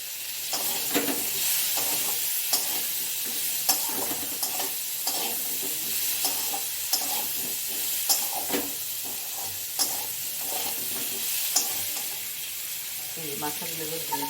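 Fish heads fry in hot oil in a pan, a steady close sizzle broken by repeated scraping stirs of a spatula throughout, with no talking.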